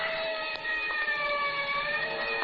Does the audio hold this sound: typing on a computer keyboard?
no